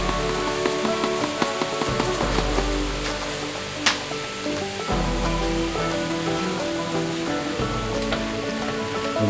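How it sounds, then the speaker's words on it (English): Pork sizzles and crackles steadily in a hot pan with lemon pepper and crushed red pepper flakes, a dense, continuous frying hiss with occasional louder pops, close and constant throughout. "We're just going to saute this up"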